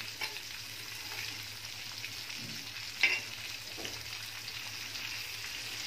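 Fresh baga fish, a fish rich in omega-3, sizzles steadily in a pan over a slow flame, with a soft continuous frying hiss and a few faint clicks and stirring sounds.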